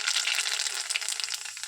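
Dried red chillies and nigella seeds crackle and sizzle in hot oil in a wok, a close, steady hiss with fine popping and no voices.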